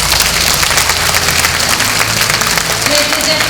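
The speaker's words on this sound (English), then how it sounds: "round of applause for the Vice President, Penny Mordaunt, MP" An audience at a business awards event applauds a speaker, a steady, full wash of clapping from many hands at close range with a faint tone near the end.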